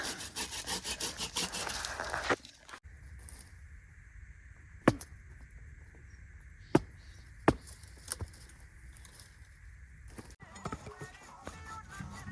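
A hand saw cuts wood in quick, rhythmic back-and-forth strokes at close range, then pauses with a few sharp knocks before the sawing resumes briefly, with quiet talk in the background.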